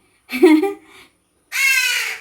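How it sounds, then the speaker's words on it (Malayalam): A crow caws twice nearby: a short harsh call, a brief pause, then a longer drawn-out caw. "ഇതേ കാക്കച്ചി അന്വേഷിച്ച് വന്നേക്കുന്നത് തന്നെ"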